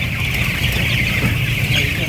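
Chickens disturbed and herded at night to wake them for feeding give continuous, close clucking, with a broad, busy flock murmur throughout.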